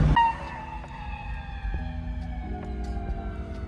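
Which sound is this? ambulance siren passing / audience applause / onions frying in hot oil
ambulance siren passing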